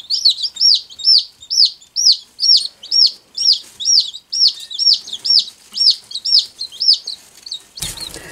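Bantam baby chicks chirp loud and close in a quick, steady run of sharp, high peeps, one after another, ending with a short rustling bump.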